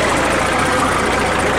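An IMT 558 tractor engine running steadily at close range, a loud, even diesel drone with a rough knocking texture and no voices.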